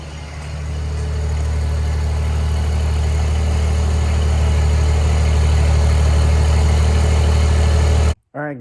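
A cold engine idles steadily in freezing weather at about minus three degrees, its choke adjusted, giving a loud, continuous low rumble that builds over the first second, holds even, then cuts off abruptly near the end.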